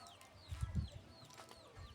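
A black rooster gives a few short, soft clucks from nearby, a brief low burst with faint birdsong chirping in the background.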